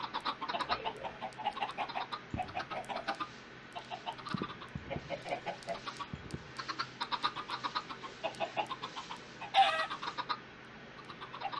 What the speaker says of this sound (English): Why are these little chickens not growing up?